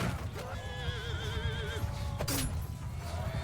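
Horses whinny in a Mount & Blade II: Bannerlord cavalry battle. One wavering neigh rises and falls over a steady rumble of battle noise, followed by a brief sharp crash.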